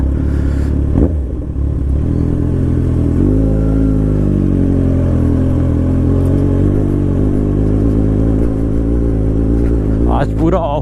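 A motorcycle labours up a rough, steep off-road trail, its engine droning and revving steadily close by with clattering bumps, plus a brief rising rev near the end.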